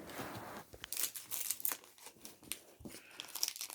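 Scissors snip through a crinkly WWE card pack wrapper, with rustling plastic and quick crunchy cuts close by, and no talking.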